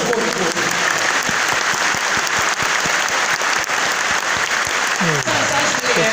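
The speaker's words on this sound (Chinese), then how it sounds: "所以请把这个掌声给最前面30年的所有前辈" Sustained applause from a large audience at a 30th anniversary thanksgiving assembly of the I-Kuan Tao association in Taichung, Taiwan, dense, steady clapping filling the hall throughout, with a few louder individual claps and some voices mixed in.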